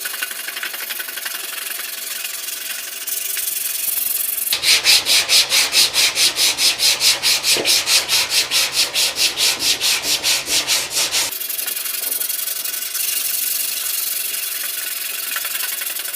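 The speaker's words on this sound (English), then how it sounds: "now we've moved on to a smaller diameter sweep to do the wheel arch" A sweep sands thin primer inside the wheel arch of an E30 BMW, a steady rhythmic rasping of fast back-and-forth strokes, close and loud for about seven seconds between stretches of quieter background hum.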